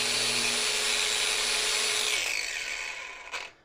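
A cordless grinder powered by an Ingco 60Ah 20V/40V battery backpack runs with a steady high whine, then cuts out and spins down to near silence, ending with a brief clunk.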